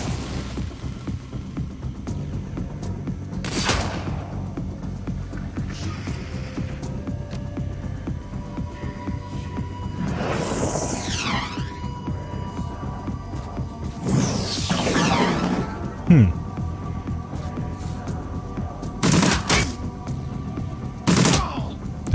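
Gunfire and impact crashes in the video game Shadowrun: Dragonfall, scattered sharp bursts and whooshing shots over a low steady background rumble, moderately loud, with no one talking.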